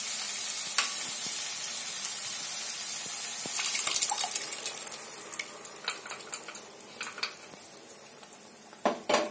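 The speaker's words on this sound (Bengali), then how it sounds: "এবার আমি এর মধ্যে ডালটা ঢেলে দেব।" Fish head moong dal poured into a hot pan of fried fish-head masala, a broad sizzle building then settling into crackling frying with scattered stirring scrapes and utensil clinks, close and alone.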